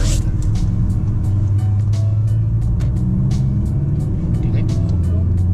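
A driving-school car accelerates steadily during a lesson at a right-before-left junction. A loud, continuous engine drone holds throughout, with faint ticking above it.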